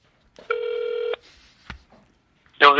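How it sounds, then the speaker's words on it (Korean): A telephone call is placed and connected: a steady electronic ringing tone sounds for about a second, then a click on the line, and a voice comes through at the end. "배감독님을 직접 전화해가지고 연결을 한번 해보도록 하겠습니다"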